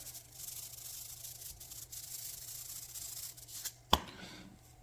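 Coarse salt is sprinkled and rubbed onto picanha steaks, making a soft, quiet granular hiss, with one sharp tap close by near the end.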